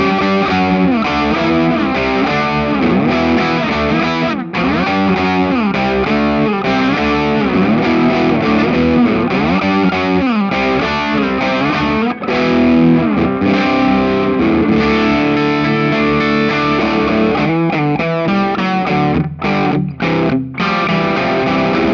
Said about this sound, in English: So I'm just going to give it a bit of edge, a little bit of a gain boost